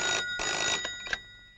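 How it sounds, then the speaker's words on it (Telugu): A telephone rings in a Telugu comedy film scene, two loud bursts of ringing separated by a short gap, then a brief click before the line goes quiet; no talk is heard. "రంగరాయుడు బంగ్లాకి ఫోన్ చేస్తున్నావా"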